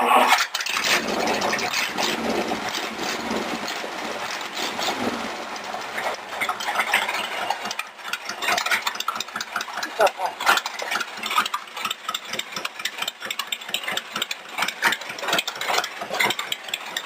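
A rat rod roadster's engine cranks and tries to start, giving rough rattling mechanical bursts with sputtering, uneven pulses and loud close clatter, while voices talk over parts of it.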